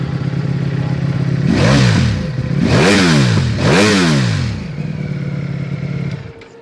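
A 2007 Ducati Desmosedici RR V4 motorcycle idling close by, then revved in three sharp throttle blips that rise and fall before settling back to a steady burbling idle.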